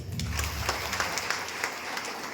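Applause breaks out at a ceremony in Belur, a dense wash of clapping from the gathered crowd that holds steady for a couple of seconds.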